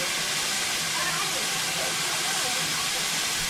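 Steam train of the West Somerset Railway at Blue Anchor, heard as a steady broad hiss and rumble of steam and rolling stock, filling the scene evenly at moderate distance without distinct beats.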